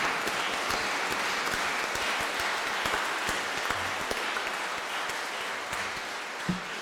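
A church congregation at a French mass for the feast of roses applauding steadily throughout, a dense even wash of many hands clapping in a reverberant space, with a faint knock near the end.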